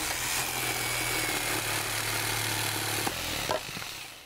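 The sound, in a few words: jigsaw cutting wood in a cartoon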